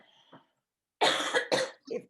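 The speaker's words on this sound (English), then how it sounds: "If she ever stops coughing," A person coughs hard twice in quick succession at close range, followed by a smaller cough after a brief pause.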